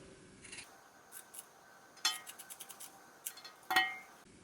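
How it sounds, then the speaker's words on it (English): Scissors snip through t-shirt fabric in a quiet room, a handful of short crisp metallic cuts in uneven bursts, close and fairly soft with no talking. "I'm going to just cut a small string out here."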